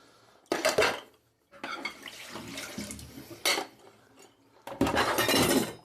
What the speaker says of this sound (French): je regroupe la vaisselle dans le saladier